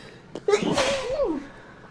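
A single sharp sneeze, close and fairly loud, with a brief breathy intake just before it.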